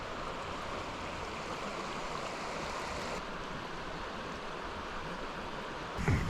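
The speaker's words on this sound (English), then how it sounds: "just relaxing and listening to the water run is quite nice" Steady running water of a stream beside a winter tarp and bivy camp at night, a continuous close rushing wash with no voices, plus a brief louder rustle near the end.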